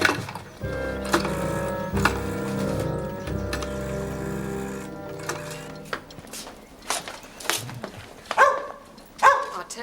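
A dog barks and yips several times, its short bursts coming mostly in the second half over a fading droning background.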